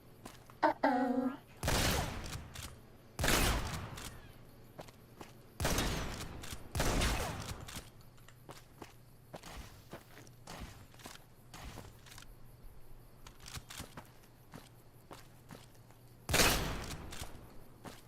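Gunfire from a weapon in Fallout New Vegas: several loud, sharp shots spaced a second or two apart, each with a short decaying tail, over a low steady game hum.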